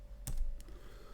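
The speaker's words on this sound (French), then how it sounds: "Donc je fais V avec mon clavier." A single soft click of the V key on a computer keyboard, close and faint, alone in a quiet room.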